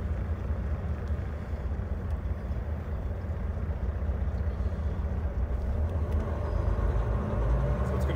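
Volvo VNR semi truck with an I-Shift automatic transmission pulls away, its steady low diesel rumble droning from inside the cab without pause.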